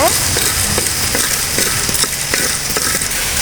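Raw peanuts dry-roasting in a pan for idli podi, stirred continuously, with a dense, loud rattling scrape and a light sizzling hiss, close up and without talk.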